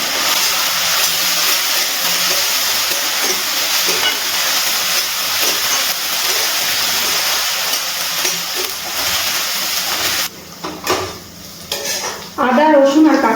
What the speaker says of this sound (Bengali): এবার এর মধ্যে দিয়ে দিচ্ছি আদা রসুন বাটা আর কাঁচা লঙ্কা বাটা। খুব ভালো করে কষিয়ে নেব।